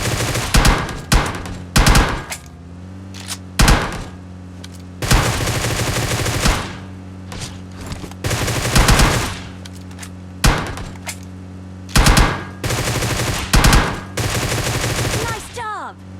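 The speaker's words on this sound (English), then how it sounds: "Passengers in a vehicle can peek out the window to shoot at enemies." Automatic gunfire rings out from a vehicle in the mobile game PUBG Mobile, loud repeated bursts of rapid shots with short gaps, close and dominant, with a hint of engine or other game sound underneath.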